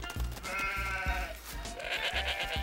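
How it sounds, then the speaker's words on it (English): A herd of sheep and goats bleating, with several overlapping calls repeating close by throughout, loud and continuous. "We're a herd of sheep and goats."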